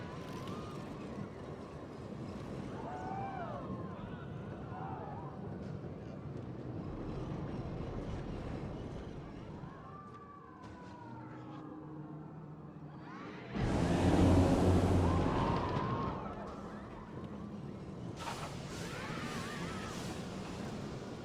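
Planet Coaster boomerang roller coaster running in a video game: a steady rumbling ride sound with whooshing wind, swelling into a loud rush midway before easing back.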